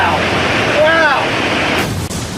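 A river's water rushes at increasing speed toward critical flow, cutting through gravel and sand. It makes a brief, steady broadband wash, with a faint tonal trace in the middle that may be a voice.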